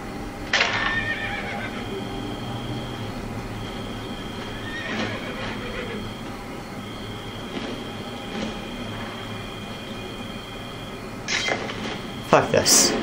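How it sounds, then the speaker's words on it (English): A horse in the video game Assassin's Creed: Brotherhood whinnies sharply near the start, with more neighs later over a low rumbling background and occasional voices. "Damn it, stop hitting horses, Ezio."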